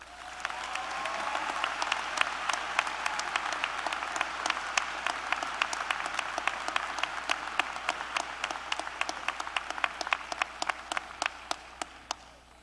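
At a spring university commencement, an audience applauds faculty honorees with dense, steady clapping that swells, holds for several seconds and slowly thins, individual sharp claps standing out more clearly toward the end.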